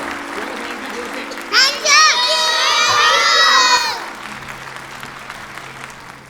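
Audience at a preschool annual function breaks into loud applause and excited children's cheering and shouting, swelling after a moment and then fading back to a low murmur.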